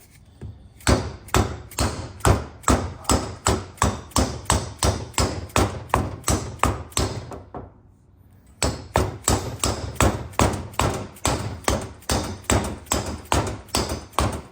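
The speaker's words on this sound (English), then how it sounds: "try this hammer here" A hammer taps a part into a cylinder on a Ford Jubilee tractor's hydraulic top lift, over and over in a quick, steady rhythm, dozens of sharp close blows with one brief pause partway through.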